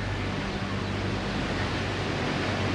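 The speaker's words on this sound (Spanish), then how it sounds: "Se escucha agua." Ocean surf at a secluded desert beach in Baja California Sur, Mexico, a steady broad wash of waves and water rushing evenly throughout, fairly close and unbroken.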